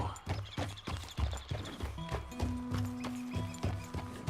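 Horse hooves in Red Dead Redemption 2 clop in a steady, fairly quick rhythm, close and clear, over a soft background with a faint sustained musical tone.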